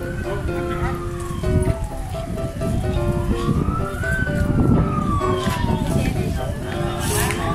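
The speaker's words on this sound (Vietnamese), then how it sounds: "Bây giờ là xe cứu hỏa 114 đã đến rồi các bạn." A fire truck siren wails as it arrives at a residential street fire in Phan Thiet, rising and falling steadily and loudly over heavy traffic and crowd noise.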